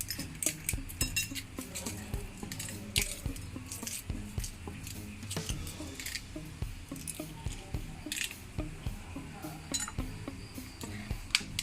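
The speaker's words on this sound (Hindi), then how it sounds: "अंडों को मैंने 10 मिनट के लिए उबाल लिया है। अब मैं इनको आपके सामने छीलूंगी।" Eggs boiled for ten minutes are peeled by hand, giving soft, close, irregular crackling, tapping and squishy clicks that continue throughout at a low level.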